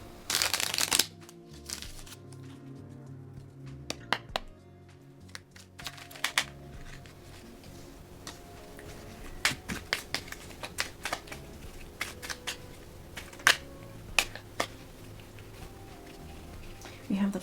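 Tarot cards are riffled and shuffled up close, then dealt and laid out with a series of crisp, sharp snaps and taps on a surface, with faint room noise between them.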